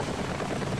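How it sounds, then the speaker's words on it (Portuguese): Helicopter in the video game Daymare 1998, a steady dense rotor drone filling the brief moment with no talk over it. "tô escutando um som de helicóptero"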